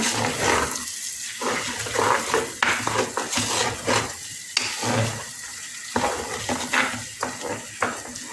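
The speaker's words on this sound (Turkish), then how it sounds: "biraz kavurmam lazım. Hepsini birlikte." Vegetables sautéing together in a pot for green lentil soup, crackling sizzle broken by repeated scraping stirs and clinks of a utensil against the metal, close and lively, no voices.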